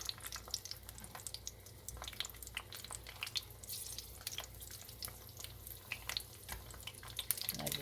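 Food sizzles steadily in a skillet on low-medium heat, with dense crackling and frequent sharp little pops and spits scattered throughout, fairly quiet and close.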